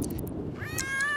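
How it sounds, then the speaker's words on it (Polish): Cats in The Sims 3 game meowing, a couple of drawn-out rising meows near the end, under a low background hum. "Boże, koty! Koty!"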